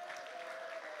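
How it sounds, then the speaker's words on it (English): A church congregation claps steadily and continuously as a clap offering during a worship service, a dense wash of many hands applauding together at moderate volume with no voices standing out. "Can you say and give a clap offering to Jesus?"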